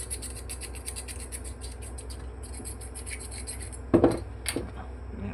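Rubbing a wire to strip off its insulation, for a hammer drill repair, makes a continuous close scraping rasp, followed near the end by a couple of louder scuffing knocks.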